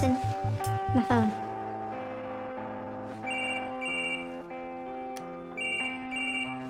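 A mobile phone ringtone chimes in a school drama scene, a repeating electronic melody playing loudly across several seconds with a brief burst of rhythmic notes at the start and voices mixed in.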